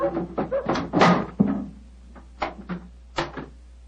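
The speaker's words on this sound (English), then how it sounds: "Why in thunder doesn't the keeper open the door?" A door is opened after knocking, staged as a radio-drama sound effect. A few close wooden thuds and knocks come in separate bursts, with short gaps of quiet between them.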